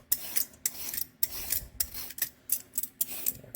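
Three good-sized carrots being peeled, with a peeler rasping along them in quick, repeated strokes, about a dozen short scraping bursts with brief pauses between, close and fairly loud.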